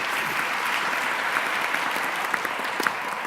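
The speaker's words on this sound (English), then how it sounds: "I'm going to ask first for a round of applause for my panel" An audience at a conference panel gameshow applauds, dense steady clapping from a sizeable crowd filling the room with no pause.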